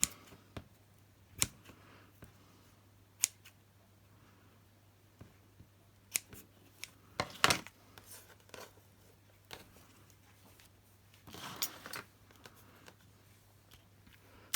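Scissors trimming scrappy paper for a craft project, sparse quiet snips and clicks scattered irregularly over a low steady hum, with a brief cluster of rustling cuts near the end.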